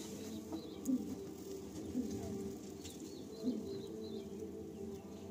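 Pigeons cooing softly in a loft in Garia, with a few low, rounded coos rising over a quiet, busy background and faint chirps higher up, heard at a moderate distance.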